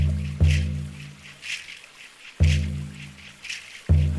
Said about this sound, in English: And the water stream,